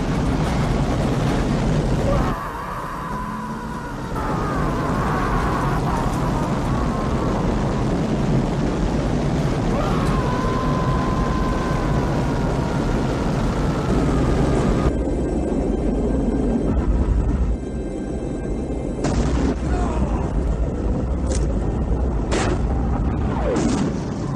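Rocket lift-off in the 1990 film Captain America: a loud, sustained roaring rumble with booming bursts that fills the whole stretch, shifting in texture as the launch goes on.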